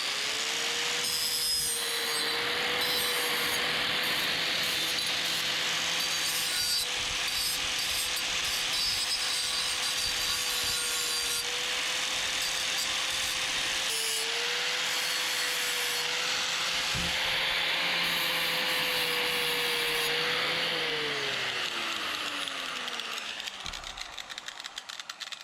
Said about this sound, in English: Right now it's just time to clean up some edges. A new 120 grit disc.